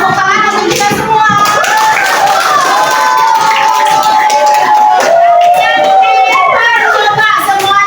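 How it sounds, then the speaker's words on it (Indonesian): A group in a classroom coding lesson claps hands in rhythmic bursts while children's voices chant or sing loudly over the claps throughout. "tepuk tangan untuk kita semua"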